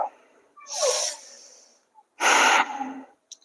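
Two strong, forceful breaths of bhastrika pranayama, each a loud, close, rushing burst of air about half a second long, separated by a short quiet gap with a small sniff between them.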